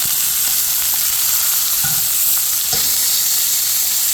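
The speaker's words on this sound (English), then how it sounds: "So we're browning all those off." Bison short ribs brown in a hot pan, a loud, dense, unbroken sizzle heard close up, with occasional soft knocks as the meat shifts.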